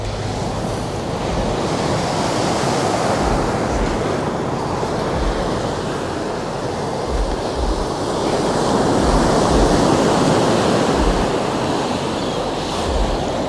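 Surf washing in on Sword Beach in Normandy, a steady broadband wash of breaking waves with wind buffeting the microphone, continuous and fairly loud with no voices.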